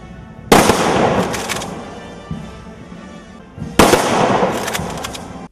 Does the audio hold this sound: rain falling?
no